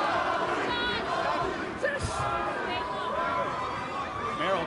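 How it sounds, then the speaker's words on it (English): An Albuquerque, New Mexico crowd at an MMA fight chants a fighter's name, a loud rhythmic mass of voices filling the arena and holding steady throughout, mixed with general crowd noise. "There's the chant of Holly from the Albuquerque, New Mexico crowd."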